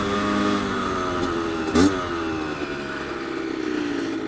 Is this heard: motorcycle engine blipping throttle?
yes